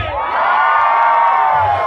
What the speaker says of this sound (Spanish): Solteros, un grito muy chingón a la cuenta de 3